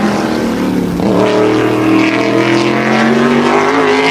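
Modified race car lapping Wall Stadium during qualifying on Turkey Derby weekend, a loud sustained engine drone that climbs in pitch as it accelerates off the corner, continuous and close for the whole stretch.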